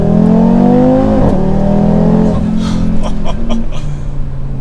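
A 2024 Audi RS3 performance sedan accelerates hard, its engine note sweeping up and dropping as gears change, loud and close, with a rising whine and harsher bursts toward the end.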